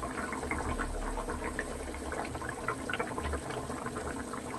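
Tomato curry simmers in a pot, a steady low bubbling and watery churn running continuously, close and moderately loud, with no voices.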